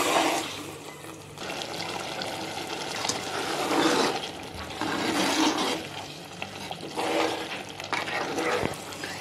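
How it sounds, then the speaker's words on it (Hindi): Tamarind pulp with spices fries in a pan for dalcha, giving a steady wet sizzle and bubbling with periodic swells as the mixture is stirred, close and moderately loud. "इसे भी अच्छे से भूनेंगे।"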